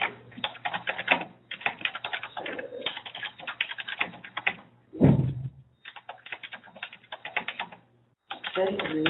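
Clattering keystrokes on a computer keyboard, typing in a text editor, in quick irregular bursts with short pauses between runs, plus one louder knock midway.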